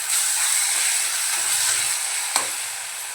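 Pav bhaji is stirred in a pan of hot oil, giving a steady close sizzle with a constant hiss and a brief knock of the spoon near the end, with no voices.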